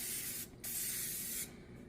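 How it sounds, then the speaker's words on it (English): Two quick bursts of cooking spray hiss up close onto an 8x8 baking pan, separated by a brief pause, the second burst long and steady before cutting off. "Just want to spray so it doesn't stick."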